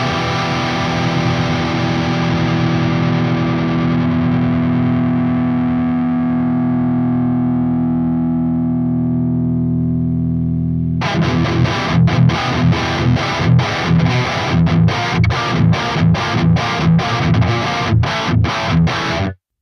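Distorted electric guitar through a Neural DSP Soldano amp simulation: a long sustained chord rings and slowly decays, then tight, chugging palm-muted riffing kicks in loud and rhythmic until an abrupt stop.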